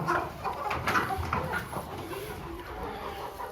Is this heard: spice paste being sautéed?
no